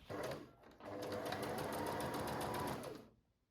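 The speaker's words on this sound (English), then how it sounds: "Once you've pinned your bodice into place, you can then sew it up." A sewing machine stitching up a dress bodice, a close, steady whirring run of rapid needle strokes after a brief start and pause, stopping cleanly at the end.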